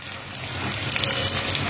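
Small whole brinjals sautéing in hot oil in a pan give a steady, close sizzle with a faint watery crackle that holds at an even level throughout, with no voices.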